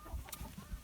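Easter Egger roosters clucking in a brief, soft burst of low throaty notes, close by with faint farmyard background.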